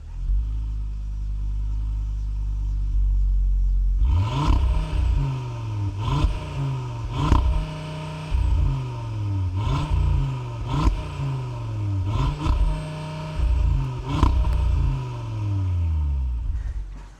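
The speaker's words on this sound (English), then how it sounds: "this car has that signature 5-cylinder turbo, so let's go ahead and fire it up" After a moment of quiet, a 2025 Audi RS3 turbocharged five-cylinder fires up with a loud bark, then settles into a deep, throaty idle broken by repeated sharp revs that rise and fall, all close by with no talking.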